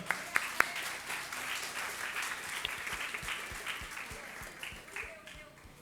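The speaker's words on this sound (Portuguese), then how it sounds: "Vamos dar um forte aplauso ao Senhor?" A church congregation applauding during a communion service at a Baptist church, a few sharp early claps giving way to a sustained spread of clapping under a reverberant hall, with voices present.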